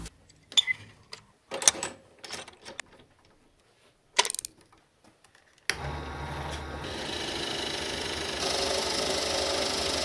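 A drill press bores into wood with a Forstner bit. Sparse knocks and handling noises come first, then the motor starts and runs with a steady whir and grinding hum until the end.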